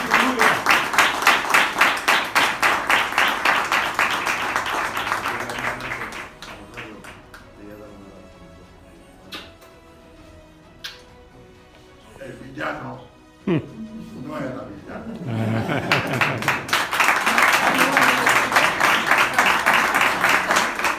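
At a tribute ceremony at the Almería Western film museum, a crowd bursts into loud, dense, rhythmic applause, which fades into a quieter stretch with a voice and scattered sounds, then swells back into strong, sustained clapping.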